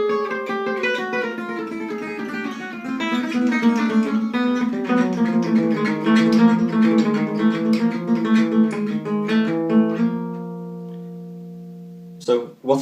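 Guitar plays a lick, a smooth run of sliding, bending notes over a held low tone that rings out, then a few sharp string sounds at the end.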